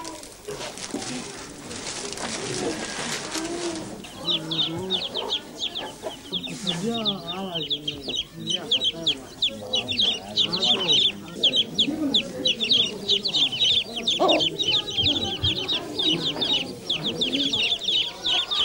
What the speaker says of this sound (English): 11 chickens come out of 21 eggs